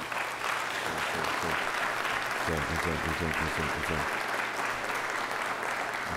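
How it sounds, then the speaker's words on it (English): Applause from an audience at an orientation opening, steady clapping throughout with a brief stretch of stronger, more distinct claps in the middle. "he deserves a huge applause and thank you"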